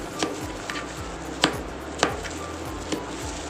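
A knife slices cucumber on a cutting board, giving a series of crisp, close chops at an uneven rhythm, several sharper strikes standing out, with no talking.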